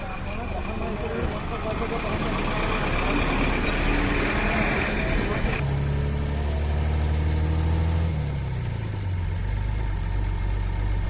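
A bus engine rumbles and idles steadily as it creeps slowly into Labhpur bus stand, the low drone shifting pitch partway through, close and continuous beneath someone talking.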